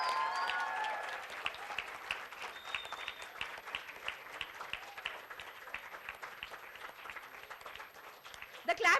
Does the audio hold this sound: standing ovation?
yes